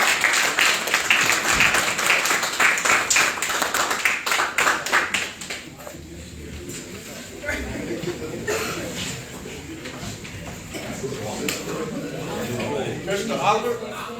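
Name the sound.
audience applause for new firefighters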